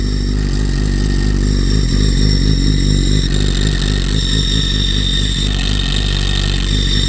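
A Ducati motorcycle engine runs loud and close, revving steadily with a throaty mechanical clatter for several seconds, alone with no talking.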